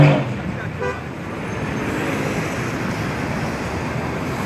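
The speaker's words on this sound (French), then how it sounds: "Parce qu'il y a trop de voitures." Busy street traffic near a crowded outdoor ceremony, with a horn toot at the start, then a steady rumble of passing cars filling the background and no clear talk.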